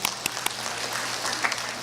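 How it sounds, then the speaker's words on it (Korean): A congregation at a 2017 church camp meeting claps briefly. A few sharp, distinct claps lead into a soft, diffuse patter of applause that lasts under two seconds. "박수 보내주세요."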